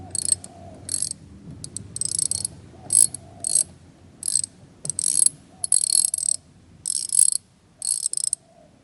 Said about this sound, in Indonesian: Ada 4 baut yang pakai kunci T20. Nah ini masih bagus nih, putarnya berlawanan arah jarum jam nih.